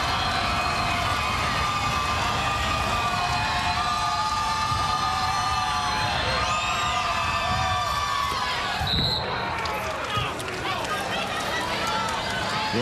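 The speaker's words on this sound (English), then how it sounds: "Listen to the crowd." A large crowd cheers and roars at a high school girls basketball championship game, Class AA, Braham against New Richland-H-E-G. The noise is loud and constant, with whistles, sneaker squeaks and a commentator talking over it.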